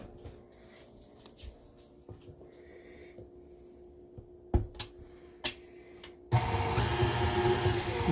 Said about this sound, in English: if you turn that mixer on too high, it's going to throw that flour everywhere